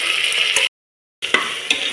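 Steady, loud sizzling of onions sautéing in a pan, briefly cut off by a moment of silence, with faint stirring scrapes.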